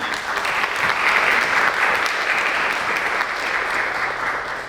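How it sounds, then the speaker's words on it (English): A steady roar of applause from the audience at a Detroit entrepreneur procurement forum, many hands clapping densely and evenly for several seconds and easing slightly at the end. "So can we please give them a round of applause one more time?"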